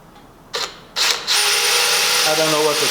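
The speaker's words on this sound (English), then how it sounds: "I'm just going with an 1/8 inch pilot hole." Drill boring a 1/8 inch pilot hole in stainless steel plate: two short bursts, then a steady high-pitched whining drill tone that holds to the end.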